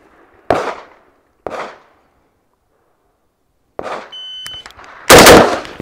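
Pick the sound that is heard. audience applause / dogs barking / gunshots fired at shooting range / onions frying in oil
gunshots fired at shooting range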